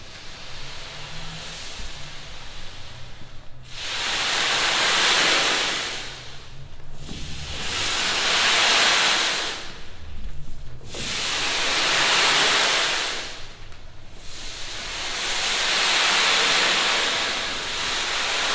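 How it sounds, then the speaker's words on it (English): A large ocean drum is tilted back and forth, its rolling beads making four long swelling washes of surf-like hiss, each rising and fading like a breaking wave, with no voices. "So this is an ocean drum."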